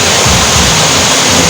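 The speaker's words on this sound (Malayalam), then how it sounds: "നമ്മൾ ആ വാട്ടർഫാൾസിൻ്റെ മുന്നിൽ എത്തിച്ചേർന്നു" A waterfall with low summer flow gives a loud, steady, broadband rush of falling water close by, unbroken for the whole stretch, with no voices.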